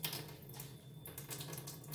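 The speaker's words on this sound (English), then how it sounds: "and you use it to turn on the faucet." Water runs from a turned-on faucet into a sink in a steady, soft splashing stream, fairly close and uninterrupted throughout.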